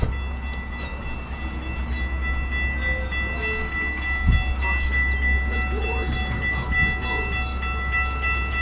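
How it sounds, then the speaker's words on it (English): A train passing nearby with a steady low rumble and rolling noise, heard from a waiting car, with a brief thump partway through and a faint voice underneath. "It's a shorter train, I guess,"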